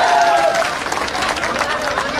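Crowd at a political campaign rally claps for Hanuman Beniwal, a loud sustained wash of applause outdoors with a brief tonal whine at the start and crowd noise beneath.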